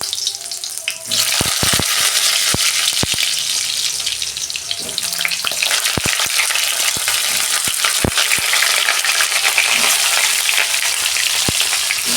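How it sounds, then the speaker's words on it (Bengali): Sliced snake gourd frying in hot oil over a low gas flame, a steady broadband sizzle with sharp crackles and pops scattered throughout, close and loud with no talk. "আমি গ্যাসের ফ্লেমটা আস্তে করে দিয়ে চিচিঙেগুলো ভেজে নিচ্ছি"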